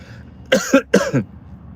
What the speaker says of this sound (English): I feel like another cough coming on